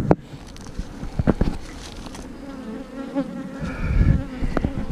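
Honeybees buzz steadily around an open beehive during a hive check, a close, continuous insect drone with a few louder bursts and knocks as the colony is handled.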